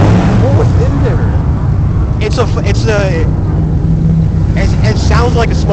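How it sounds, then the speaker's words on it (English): A truck with a small block V8 rumbles steadily in the background while people talk loudly over it throughout. "It sounds like a small block V8"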